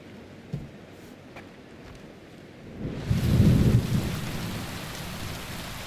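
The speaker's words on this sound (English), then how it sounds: "In this pissing rain" Heavy rain falls steadily in a medieval setting in Kingdom Come: Deliverance II, with a deep rumble of thunder swelling midway and fading slowly under the downpour.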